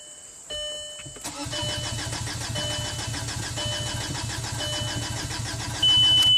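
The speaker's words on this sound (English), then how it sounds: "So let's crank it and see if all those codes come back." A rebuilt VW TDI diesel engine is cranked by the starter, then catches and settles into a steady, loud, rhythmic clatter that runs to the end, with no one talking.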